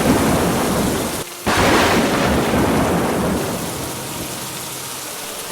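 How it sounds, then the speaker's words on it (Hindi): Heavy, steady rain roars loudly with a deep rumble of thunder underneath, briefly dropping out for a moment before continuing. "बहुत तेज बारिश हो रही है"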